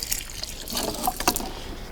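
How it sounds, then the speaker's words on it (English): Water splashes and trickles steadily around the base of garden brassica plants during watering, a close, continuous pouring sound with no speech. "and then give it a bit of a watering."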